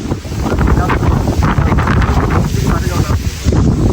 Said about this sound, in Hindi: हवा तो बहुत ज़्यादा ही तेज़ है